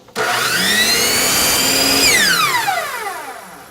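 A power saw cuts an angle through wood trim, the motor spinning up sharply, holding a loud steady whine through the cut, then winding down as the blade slows, close and alone.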